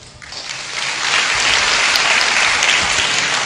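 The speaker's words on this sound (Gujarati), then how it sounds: "ઠોકો તાળી" A crowd breaks into applause that quickly swells to a loud, dense clatter of clapping and holds steady to the end.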